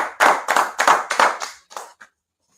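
A small gathering at an ISUPK meeting claps in unison, about half a dozen sharp, evenly spaced claps that ring briefly in the room before the last two soften and trail off into silence.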